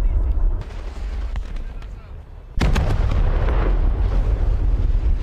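Heavy naval guns boom in a warship video game, a deep rumbling blast followed by a second louder, sustained barrage with rolling low-end thunder, near and powerful, with a player's voice talking over it.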